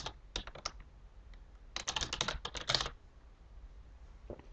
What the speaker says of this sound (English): I'm going to type that in here.